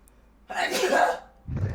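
A single sharp sneeze bursts out at close range amid a game commentary session, followed by the start of a low voice.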